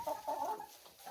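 Chickens in a snowy backyard coop with new perches give low, soft clucks and murmurs in a short, continuous run, close by and fairly quiet.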